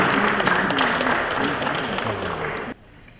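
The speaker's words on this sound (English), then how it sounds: "Can we applaud Bumi Kuku as she comes off" Audience applause at a Greater Lagos Fiesta 2021 activation ceremony, a steady wash of clapping from a crowd that runs for nearly three seconds, with faint voices under it, before cutting off abruptly.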